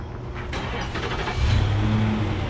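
A 2014 Infiniti QX80 Crosscut, started by remote, cranks and settles into a steady, rumbling idle, heard close and continuous with no talking.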